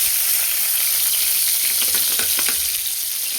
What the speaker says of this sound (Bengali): প্রথমে পেঁয়াজগুলো দিয়ে দিতে হবে,